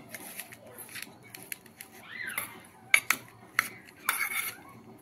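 A spoon mixes chopped raw mango with jaggery in a bowl, giving a few sharp clinks and scrapes, moderately close, over soft background noise with no talk.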